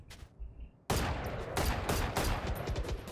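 Rapid gunshots from the tactical shooter Valorant, a sudden loud burst of firing after a quieter moment, sustained cracks and rattling shots to the end with no talking.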